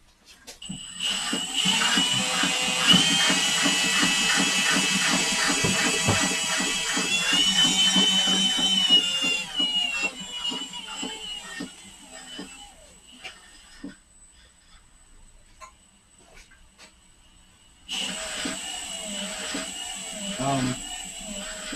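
A flywheel spun up by a motor, with a rising whine and a dense tonal rattle that climbs for several seconds and then cuts out, followed by quieter clicks and a later renewed mechanical whir under voices talking.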